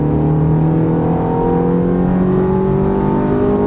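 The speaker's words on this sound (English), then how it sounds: "Roll on the accelerator again." Ferrari F430 engine pulling hard on a race track, a loud steady drone with rising engine tones, heard close and continuous from start to finish.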